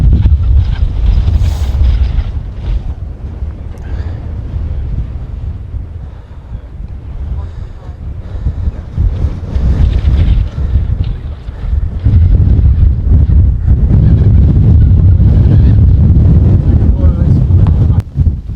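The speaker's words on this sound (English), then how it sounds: "we're now walking into the wind, so you can probably hardly hear me" Strong wind roaring across a microphone near a mountain summit on Coniston in the Lake District, a loud, continuous low rumble with gusty surges that swell and ease, with a voice faintly buried beneath it.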